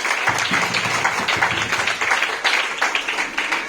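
An audience applauds at a welcome event for Tamanna Enterprises in Varanasi, dense rhythmic clapping close by with a pulsing, slightly rising-and-falling beat, steady and loud throughout with no talking.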